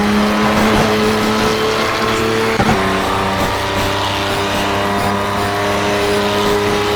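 Race car engine in the Project CARS video game, one of the fastest cars available, holds a steady loud drone with sustained harmonic tones, a brief shift-like blip near the middle, then continues evenly without talk.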